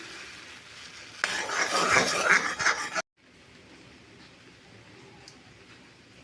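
Boiling palm sap being stirred while making palm jaggery, a bubbling, scraping rush for about two seconds that stops abruptly, then only faint room noise.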